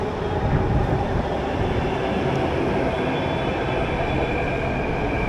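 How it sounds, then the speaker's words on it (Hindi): A Delhi Metro Green Line train rolls into the station, a loud continuous rumble of wheels and rail noise filling the whole stretch without letup. "ये आ गई मेरी मेट्रो सामने।"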